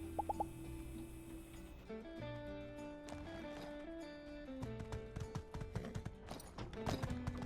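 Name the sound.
horse hooves clip-clop in video game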